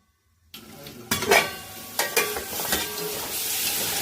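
Fenugreek greens and vegetables sautéed in a pan with little oil and a splash of water, starting after a brief silence with a burst of sizzling and scraping stirs, then a steady close hiss with occasional utensil clinks.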